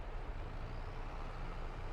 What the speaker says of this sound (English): Let's grab this tractor.